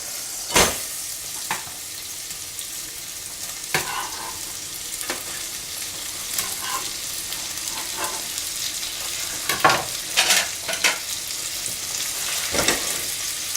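Cabbage sizzles in a frying pan for a pork fillet, apple and cabbage dish, a continuous close hiss broken by sharp clacks and scrapes as it is stirred, with no talking.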